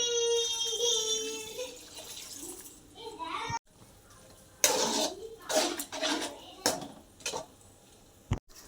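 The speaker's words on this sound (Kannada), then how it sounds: "ಈಗ ಸ್ವಲ್ಪ ನೀರು ಹಾಕ್ತೇನೆ" Water splashes and sizzles into a hot pan holding capsicum, tomato sauce, red chilli sauce and soy sauce in a few bursts after a stretch of speech, with clatter between.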